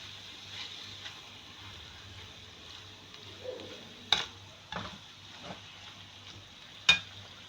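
Mungre keema sizzles steadily in a pan as it is roasted, a soft continuous hiss broken by a few sharp clinks and scrapes of stirring, with no one talking.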